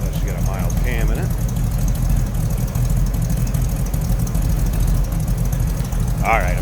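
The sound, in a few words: 1935 Ford Roadster 350 V8 engine rumbling at idle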